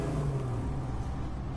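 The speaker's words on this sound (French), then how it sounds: "Là vous voyez les bagnoles qui passent." Cars rumble past in the Mad Max video game, a steady, fairly loud broadband engine roar that holds throughout with no pauses and no voices.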